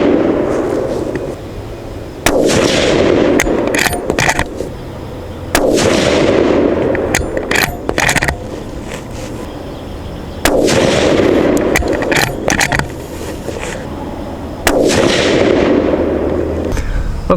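Rifle shots from a Thompson Center Compass with a glass-bedded Boyd's stock firing Sierra MatchKing rounds, five loud sharp blasts spaced a few seconds apart, each followed by a rolling outdoor echo and steady wind noise.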